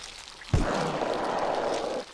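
Rain in the video game Silent Hill 4: The Room starts abruptly as a dense, steady hiss that holds for about a second and a half and then stops.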